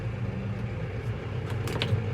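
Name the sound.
tractor engine revving before mowing hay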